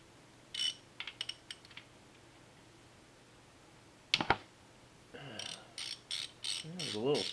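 Clicking of a 14 mm socket ratchet loosening the oil screen filter cap on a Ducati Monster 696, in a few short close bursts of ratchet clicks with quiet pauses and a sharp snap midway, no talk.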